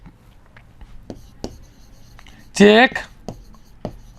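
Pen scratching on paper while entries are written by hand in an accountancy lesson, with scattered short strokes and taps. A teacher speaks over it, and one word is spoken loudly near the middle.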